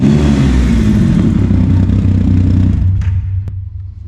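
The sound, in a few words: loud Triumph Rocket 3 motorcycle with US Works exhaust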